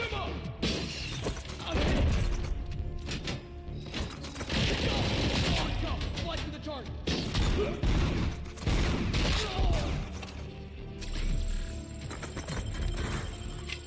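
Suppressing gunfire in RoboCop Rogue City, repeated bursts of shots mixed with clanking, shattering and mechanical noises, fairly loud and irregular over about fourteen seconds, with talk in places.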